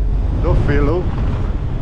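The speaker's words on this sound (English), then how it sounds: "Hey, this is windy here." Heavy wind buffets the microphone with a deep, constant roar while a person speaks briefly over it, aboard the Malta to Gozo ferry.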